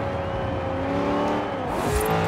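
Corvette in Forza Horizon 4, its full-bodied V8 engine droning steadily under load, pitch shifting slightly as it revs and a gear change near the end.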